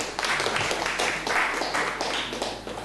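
A conference audience at Wikimania 2011 claps for a speaker, a dense patter of hand claps from many people in a hall, moderately loud and steady across the moment without voices.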